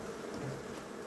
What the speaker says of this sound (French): là il y a beaucoup d'abeilles